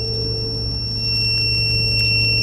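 A multimeter gives a loud, steady continuity beep while a relay is grounded for testing, with a constant electrical hum underneath.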